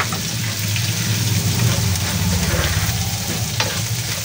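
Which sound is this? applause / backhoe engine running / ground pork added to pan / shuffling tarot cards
ground pork added to pan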